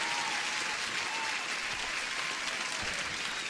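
Steady applause from a crowd, a dense even wash of many hands clapping at moderate volume without pause, as congratulations for passing a funded trading account evaluation.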